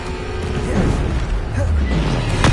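The Bombarda blasting spell explodes in Hogwarts Legacy, a loud, rumbling boom that swells and lingers for a couple of seconds, ending in a sharp crack, with no talking.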